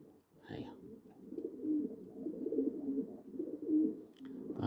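Pigeons coo softly and repeatedly at close range in a continuous murmuring chorus with rising and falling swells, while a few faint background noises come and go.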